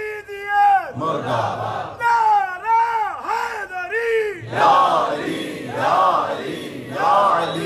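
Crowd at a Shia religious gathering in Hyderabad, Sindh chanting slogans in loud unison, rhythmic call-and-response bursts repeating several times, close and forceful.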